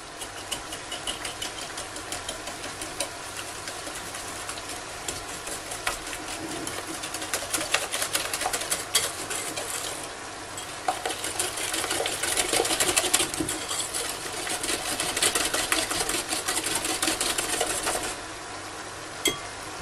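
Whisking cake batter of sugar and vanilla in a bowl, a steady mechanical whir with clinking against the bowl running continuously for about twenty seconds, fairly close and with no talking.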